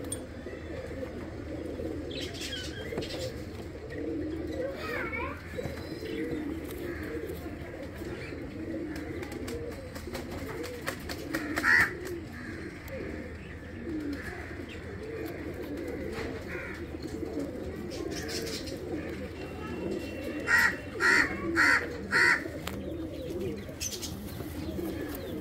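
Teddy pigeons, a group of seven males, coo steadily in a soft, low murmur close by, with a few brief sharper chirps standing out near the end.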